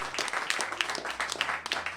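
Comedy-show audience applauding and clapping after a stand-up bit about racism, a dense steady patter of many hands over about two seconds, fairly loud and close with some murmuring underneath.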